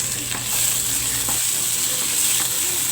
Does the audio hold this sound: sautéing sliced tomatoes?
yes